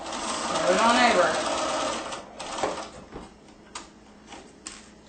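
A sewing machine stitching dress fabric, first a sustained whirring run, then short stop-and-start bursts and clicks as the needle is set and the cloth turned at a corner, close by, with someone talking over it.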